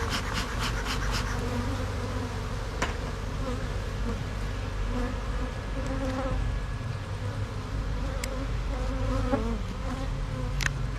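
Steady dense buzzing of many honey bees at a hive, loud and continuous throughout with a low drone, alone without talk.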